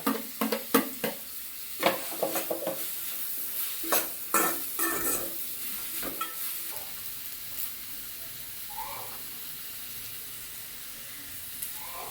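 Chopped ginger and green chili fry with clams in a pan, opening with sharp scraping stir strokes over sizzling, then settling into a softer steady hiss and occasional faint clinks.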